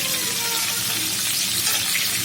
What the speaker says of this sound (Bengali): মাছগুলো দিয়ে দিলাম। মাছগুলো এখন ভেজে নেব,